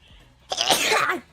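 A single sharp human sneeze bursts out after a brief quiet moment, close and loud, then cuts off quickly.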